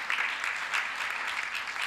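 Audience applause fills a conference hall during an international colloquium: a dense, steady wash of many hands clapping at moderate loudness, sustained without pause and with no talking over it.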